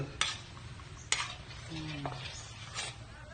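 Buttered seafood is stirred in a frying pan, with a soft ongoing sizzle and a few sharp clinks of a utensil against the metal pan, and a faint voice underneath.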